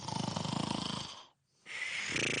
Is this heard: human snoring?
yes